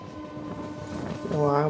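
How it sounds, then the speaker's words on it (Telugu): A MEMU passenger train rumbles past close by near Madhurawada junction, steady and loud, with a rising horn-like tone swelling at the end. "మన పక్క నుంచి రైట్ అయితే వెళ్ళిపోయింది ట్రైన్ పాస్ అయింది"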